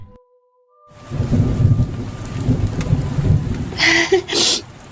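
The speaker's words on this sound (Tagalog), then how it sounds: "biglang bumuhos ang malakas na ulan." Heavy rain pours down in a steady, loud hiss that begins abruptly after a brief quiet moment, with rumbling thunder underneath and louder bursts near the end.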